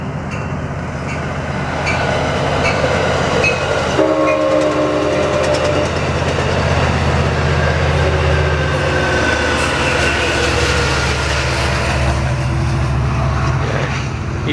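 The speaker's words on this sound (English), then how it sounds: "here comes a train" A train in an estuary setting rumbles past steadily and loudly for several seconds, its wheels clattering on the rails as a horn sounds partway through, with no talking over it.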